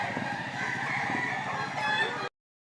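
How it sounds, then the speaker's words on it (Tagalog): An eight-month-old Gilmore-bloodline gamecock crowing at a fighting-rooster sale in Lipa, Batangas, one full cock-a-doodle-doo lasting about two seconds, fairly close and alone before cutting off abruptly. "Napakagwapong manok."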